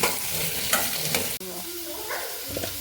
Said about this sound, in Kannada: ಎಣ್ಣೆಯಲ್ಲಿ ಸ್ವಲ್ಪ ಫ್ರೈ ಮಾಡಿ ಹಾಕಿದ್ರೆ ಟೇಸ್ಟ್ ಚೆನ್ನಾಗಿರುತ್ತೆ